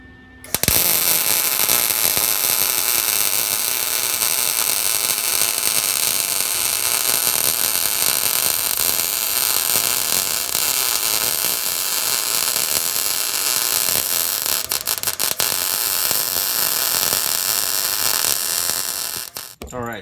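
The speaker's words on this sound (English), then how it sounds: "this is 1/4 inch steel, and I'm welding it against 1/16 inch." Quarter-inch steel being welded to thin 1/16-inch steel sheet while building a stand for a Harbor Freight 3-in-1 press brake, shear and slip roll: a steady, dense crackling hiss runs loud and unbroken for about twenty seconds, then stops abruptly.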